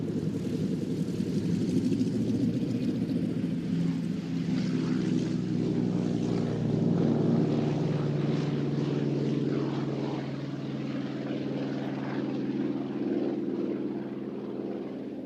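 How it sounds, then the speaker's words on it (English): A Chance Vought F4U Corsair with a Pratt & Whitney R2800 radial engine flying at an air show at NAS Oceana, a deep throbbing propeller drone that holds loud and steady, swelling slightly, then easing as it passes. "the Chance Vaught F4U Corsair and the Pratt & Whitney R2800 radial engine"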